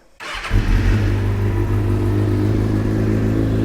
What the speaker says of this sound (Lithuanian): šaltą motociklą gazuoju